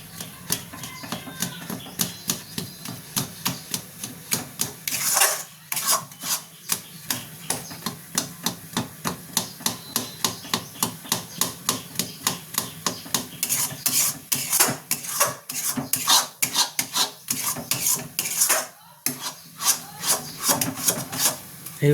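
Green pea and lentil paste stirred and fried in a wok, with a steady run of close, rhythmic scraping and rubbing strokes against the metal and no voices.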